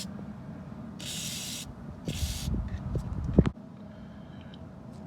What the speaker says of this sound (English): Soak it with something like WD-40.